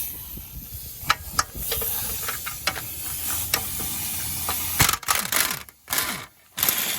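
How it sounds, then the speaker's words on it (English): Hissing air and sputtering bursts from a pneumatic tool used on engine bolts while dropping an engine, with rattling mechanical bursts and a few sharp clicks, loud and close in a workshop. "I'm sorry for the air noise you're about to hear."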